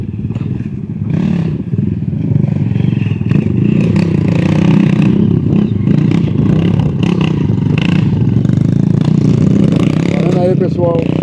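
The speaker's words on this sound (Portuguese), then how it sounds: "Já passou um monte de moto aí, ó." Motocross motorcycles roar past at close range, a loud, continuous engine drone with revving surges and clatter, while people talk over the noise.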